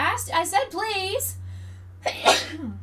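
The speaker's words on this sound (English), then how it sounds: "I have to sneeze, and I don't want to." A person sneezes once in a sharp, breathy burst near the end, after a short stretch of speech, with a low steady hum underneath.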